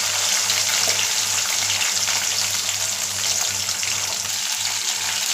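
Garlic and whole small onions sautéing in hot oil in a pan for sambar, a steady dense sizzle that stays loud and close throughout with a faint low hum underneath.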